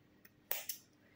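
Scissors snip yarn tails on a crocheted plush chunky mouse, two quick faint close clicks.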